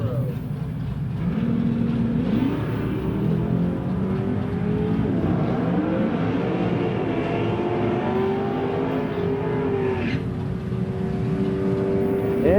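A 1972 Chevrolet Nova and a 1968 Camaro launching side by side at a drag strip, engines revving loudly and rising in pitch as they accelerate away, a sustained roar for several seconds with an announcer faintly underneath.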